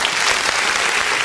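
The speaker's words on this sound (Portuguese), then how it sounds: "Vamos aplaudir o nome do Senhor." A church congregation applauds during an online worship service, a dense, loud, continuous burst of many hands clapping together for just over a second.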